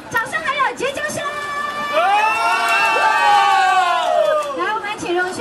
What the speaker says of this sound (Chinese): 送上掌声还有尖叫声